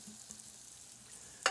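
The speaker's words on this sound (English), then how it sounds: "That's just enough to film the pan, and then in go the onions and garlic." Onions and garlic sizzle quietly in a thin film of olive oil in a pan, a soft steady crackle with a brief sharper spatter near the end.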